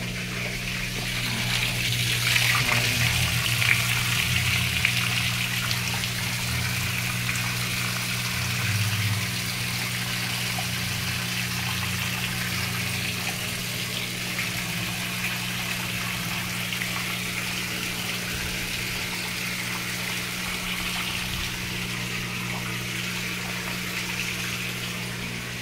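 A Whirlpool heavy-duty washing machine that is not spin drying drains its water with a continuous rushing gush and a low motor hum, steady and moderately loud throughout with no voices.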